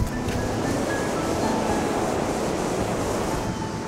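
Surf washing onto Embo Beach, a crescent of golden sand near the village of Embo and the mouth of the River Fleet, heard as a steady, unbroken wash of breaking waves with some wind noise throughout.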